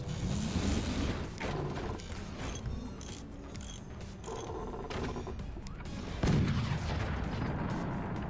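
Howitzer shells firing in the video game Forts, with dense, overlapping booms and mechanical clatter forming a loud, continuous barrage and a sharper burst near the end.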